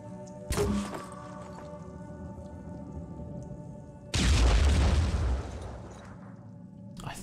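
Two heavy booms go off in the Phoenix Point video game, a sharp blast early on and then a louder, longer explosion with a deep rumble that fades over a couple of seconds. A brief thump follows at the very end.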